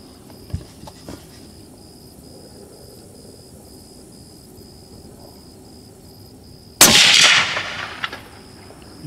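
A custom 7mm Rem SAUM rifle firing at a shooting range: one sharp, loud shot with a ringing tail near the end, after a quiet stretch with a faint earlier crack.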